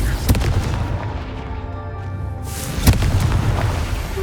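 Two deep booms from the Confringo fire spell in the Hogwarts Legacy video game, each a sharp blast with a rumbling tail, spaced a few seconds apart with no talk.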